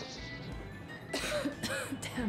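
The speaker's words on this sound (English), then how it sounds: "Damn coughing." A character in the video game Metro Exodus coughs a few harsh, raspy times over a low game ambience, the bursts close and fairly loud, with a short pause between them.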